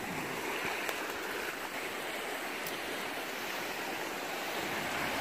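Creek water flowing at normal level, a steady, broad rushing and babbling that stays constant and close by, with no voices.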